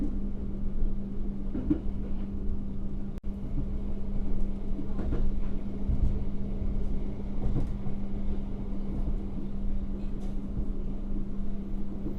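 Low steady rumble of idling CC201, CC203 and CC206 diesel locomotives at a Jakarta railway station, a constant droning hum with occasional clanks and one sharp knock.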